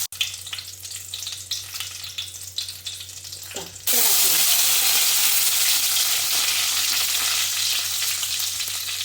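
Mustard seeds and red chillies hit hot oil for upma, breaking into a loud, steady sizzle and crackle after a quieter stretch of soft kitchen clatter, the frying continuing strong to the end.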